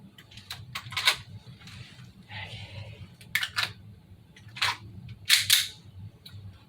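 Cybergun FN P90 1:1 scale airsoft replica firing, sharp snapping shots spread irregularly across a quiet room, some single and some in quick pairs, fairly close and crisp.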